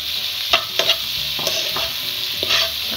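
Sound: tomatoes and green chilies frying in pan

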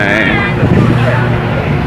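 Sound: ferry's large diesel engine running

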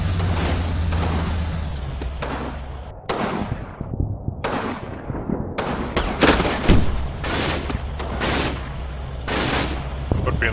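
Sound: German machine gun firing in the video game Combat Mission

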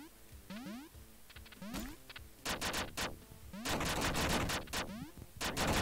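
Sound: gunfire in the video game Duck Game

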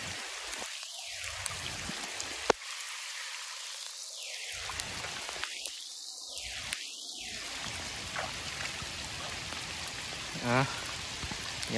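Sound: rain falling

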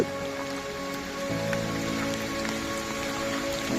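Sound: heavy rain falling

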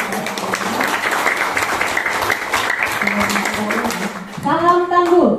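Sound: applause, clapping

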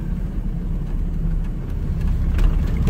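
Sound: UAZ 2206 van engine running

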